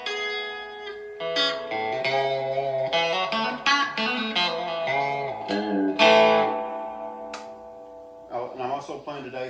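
A 1972 Fender Telecaster plays twangy chicken-picked notes and chords through a Fender Pro Reverb tube amp, slightly driven and reverberant tone, fairly close and steady.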